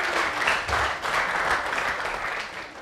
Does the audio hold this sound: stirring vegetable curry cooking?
no